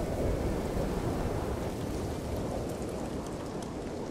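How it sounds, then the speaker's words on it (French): Steady heavy rain with low rumbling thunder during a storm in the video game No Man's Sky, a dense continuous roar close and loud, with no voices. "Est-ce que la tempête est terminée Non, pas vraiment."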